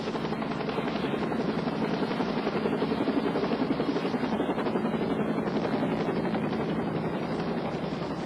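A medical evacuation helicopter roars steadily and close by, its rotor chop pulsing continuously throughout with no voices.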